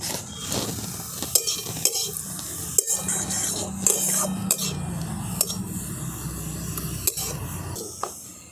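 Carrots frying in a pan for an eggless carrot cake, with a steady sizzle under repeated scrapes and clinks of a spoon stirring against the metal pan.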